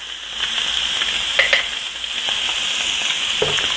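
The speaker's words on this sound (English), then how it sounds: "one didn't sear as well as the other, so I'll let that one go a little longer" Scallops sear in butter in a hot pan with a steady, bright sizzle throughout, a few louder spits and pops breaking through the continuous frying noise, close and moderately loud with no talking.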